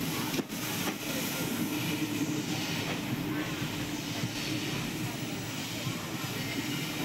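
An express train rolls into Kuttalam station, heard from on board as a steady low rumble and hiss with faint wheel clatter, fairly quiet and continuous, with light background voices.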